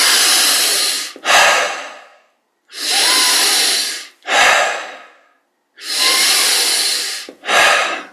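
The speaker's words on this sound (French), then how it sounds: "Et déjà les 5 dernières, au maximum de l'inspire et de l'expire." Deep, forceful breathing exercise at maximum effort: three full cycles, each a long loud inhale followed by a sharp, strong exhale, close and alone with clear pauses between them.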